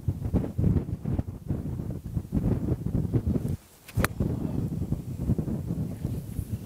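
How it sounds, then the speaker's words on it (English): Strong wind buffets the microphone on a golf course, a loud, continuous roar with gusting rises that briefly drops out near the middle before resuming. "today we have a strong wind directly into our face"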